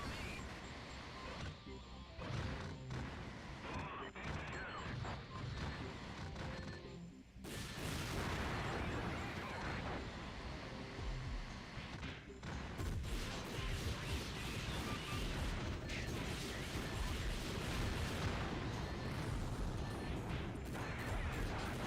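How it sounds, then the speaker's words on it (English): A grenade explodes in a video game battle, a heavy boom that breaks through dense, continuous combat noise of thuds, crashes and gunfire, all loud and close throughout. "Oh, that's a grenade."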